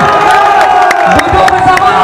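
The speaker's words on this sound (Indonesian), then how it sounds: "Kasih tepuk tangan." A protest crowd outside a government office cheers and claps in a loud, dense burst, with shouts and scattered whoops mixed into the noisy outdoor roar.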